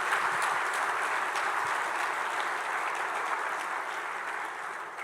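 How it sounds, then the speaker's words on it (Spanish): A church congregation gives sustained, dense applause for several seconds, a broad even roar of many hands that eases slightly toward the end. "démosle un aplauso fuerte al Señor"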